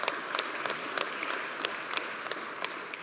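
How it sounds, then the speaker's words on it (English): Audience at the NAB Service To America 2025 awards ceremony applauds, a thin, even patter of scattered clapping at moderate distance with a few sharper individual claps standing out. "You can clap."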